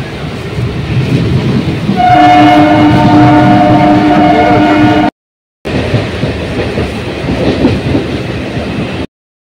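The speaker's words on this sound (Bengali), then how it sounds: "এখন দুর্গাপুর স্টেশন ঢুকে ট্রেনটা দাঁড়িয়েছে" A train standing at Durgapur station, with loud rumbling and rail noise, a sustained horn-like tone sounding for several seconds, and steady mechanical hum after a brief gap.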